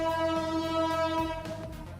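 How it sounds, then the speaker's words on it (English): A train horn in the Valorant video game sounds as a steady, loud, rich harmonic blast that holds for the whole stretch, with rumbling game noise underneath. "How can you even hear the train?"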